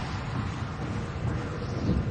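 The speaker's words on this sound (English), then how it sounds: "Violent storms dump torrential rain and hail the size of baseballs." Violent thunderstorm with torrential rain in southern Manitoba: a dense, steady roar of heavy rain and wind with low rumbling thunder swelling underneath, continuous and fairly loud with no voices.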